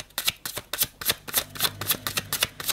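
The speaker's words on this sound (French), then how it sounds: "Elle glisse ses cartes." Tarot cards shuffled in rapid, crisp riffling bursts, repeated about a dozen times in quick rhythm, close and fairly quiet with no talking.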